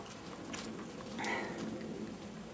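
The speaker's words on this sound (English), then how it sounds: "the weather here is being crazy with the snow and the hail" Snow and hail falling outside during a late-winter storm, a steady soft patter and hiss of pellets on surfaces, faint and continuous with no voices.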